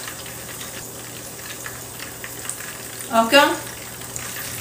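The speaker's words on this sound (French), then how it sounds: "Les bananes plantains sont en train de frire ici tout doucement." Plantain bananas frying gently in hot oil for alloco, a soft, continuous sizzle heard close up, with a brief clatter and one short spoken word partway through.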